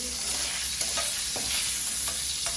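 Pork liver sautés in a pan over medium heat, a steady frying hiss with intermittent scrapes and clicks of stirring, close and fairly loud with no voices.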